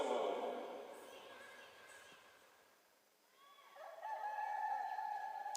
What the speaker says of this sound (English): I love that chicken noise.